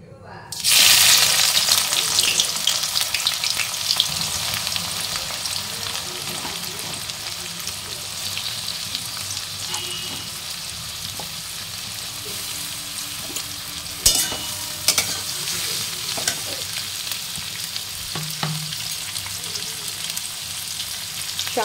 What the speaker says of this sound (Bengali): আর এই যে এখানে কড়াইতে সাদা তেল আর ঘি দিয়েছি গরম হতে, তো এটাতে বেরেস্তাটা ভেজে নেবো।